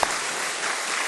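Church service audience claps for the 11th-grade students, a dense, continuous patter of many hands, brief and fairly loud with no talking.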